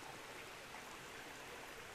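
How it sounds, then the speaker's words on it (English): Water holding fish fry is poured gently from a bucket, giving a faint, steady, even rush like a small stream that runs the whole time, with no voices. "I'm gonna gently pour that in there."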